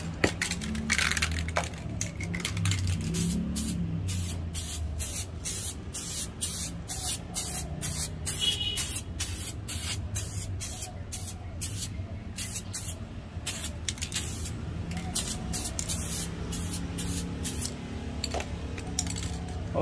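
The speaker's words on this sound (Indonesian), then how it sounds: "jadi kita semprotkan tipis-tipis" A spray gun hisses in repeated short bursts, applying PU1K clear coat in thin layers over the body panels of a Vario 150 motorbike painted Sapporo Sapphire Black, close and steady throughout.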